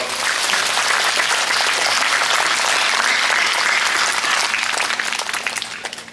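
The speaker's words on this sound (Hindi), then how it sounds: "चलो जोर से ताली बजाए दो" A church congregation claps loudly at a priestly ordination service, a dense, sustained burst of applause filling the space and tapering off toward the end.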